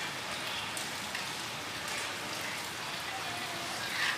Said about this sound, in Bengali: তাই খুব বৃষ্টি হচ্ছে।